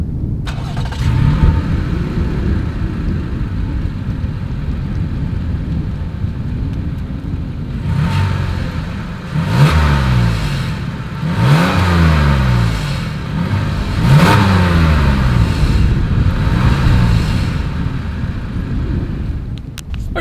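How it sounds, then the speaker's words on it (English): A 2020 Toyota Highlander SUV idles with a low exhaust rumble, then revs sharply several times in quick rising and falling surges, loud and close. "This is the new 2020 Toyota Highlander exhaust clip."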